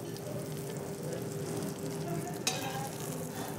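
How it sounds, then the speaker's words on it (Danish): Brussels sprouts sizzle with butter in a hot pan, a quiet, steady frying crackle with one small sharp tick partway through and no speech. "Så har vi taget lidt rosenkål og lige svitset af på en varm pande."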